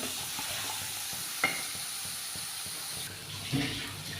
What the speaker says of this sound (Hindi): प्याज और टमाटर मैं अभी 2 मिनट के लिए मिक्स करूँगी अच्छे।